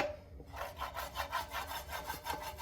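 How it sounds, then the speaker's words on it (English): A pan of spinach macaroni and cheese with onions and noodles is scraped in steady, rhythmic strokes, several per second, close and fairly loud with no talking. "Give that pan a good scraping"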